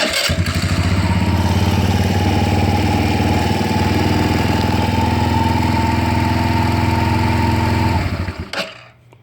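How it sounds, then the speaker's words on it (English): A Kawasaki KFX90 ATV engine runs steadily at close range with a loud, buzzing small-engine drone, then cuts off near the end, leaving a brief quiet tail. "I'm going to turn it over just to make sure the clutches and everything are working like it's supposed to"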